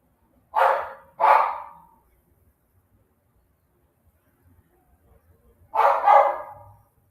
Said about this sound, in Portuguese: Desculpa, pessoal, esse é o meu cachorro.